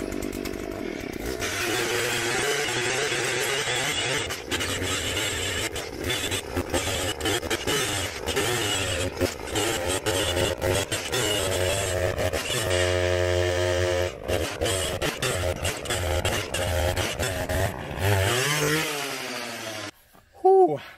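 A gas-powered hand-held auger digging post holes in clay, a loud buzzing two-stroke engine that revs and bogs in uneven surges as it bites into the ground, running close and nearly continuous before cutting off.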